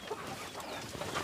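Desi chickens in a low-cost poultry shed cluck softly at a feeder, a short, quiet and steady burst of close clucking.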